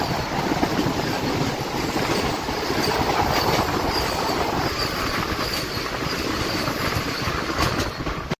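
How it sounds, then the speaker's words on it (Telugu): A Tirupati–Secunderabad Vande Bharat express rushes past close by near Guntur station, a loud, steady roar of wheels and rushing air with faint clickety-clack filling the whole stretch before cutting off abruptly at the end. "అదిగో వచ్చేస్తుంది చూడండి మన తిరుపతి సికింద్రాబాద్ వందే భారతం"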